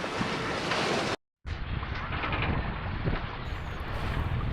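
Strong wind buffets the microphone while choppy, confused sea waves slosh around a sailboat on a beam reach in a channel, a loud continuous roar with a brief dropout partway through.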